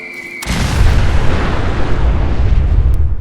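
Cluster rockets from an RPG-7V2 launcher burst in Fallout 4, a loud rolling explosion that hits suddenly after a short quiet moment and keeps rumbling as a dense, booming roar to the end.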